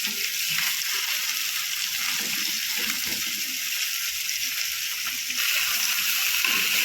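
Bangda (mackerel) pieces fry in a little oil on a flat pan over a high flame, giving a steady, fairly soft hiss and crackle throughout, with faint clatter and no clear voice.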